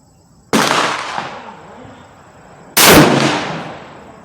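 Two loud rifle shots from a heavy-barrelled Savage 110 Tactical crack about two seconds apart, each with a long rolling outdoor echo, and a quiet voice comes in between them.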